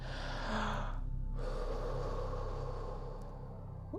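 A person breathes in loudly during a Spooky2 Rife machine scan, one close airy inhale that swells and tapers over a few seconds, with steady background hum.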